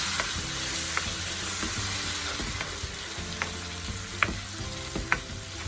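Tomato puree sizzles steadily in a pan of fried okra for masala bhindi while a utensil stirs it, with a continuous frying hiss and scattered sharp scrapes and taps at close range, no talking.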